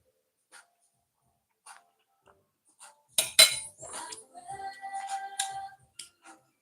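Dishes being washed by hand, with scattered clinks of cutlery, glass and crockery, then a denser stretch of clattering and scraping, close and intermittent.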